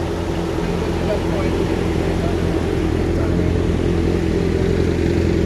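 A motorcycle engine runs steadily and loudly close by, a constant low drone with no pauses and no speech over it.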